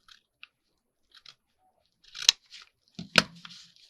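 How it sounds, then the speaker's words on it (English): Scissors cutting diagonally through a folded cardboard packaging cover in a quiet room: a few faint snips, then two louder, crisp crunching cuts near the end, with no talking. "Fold it up and cut it"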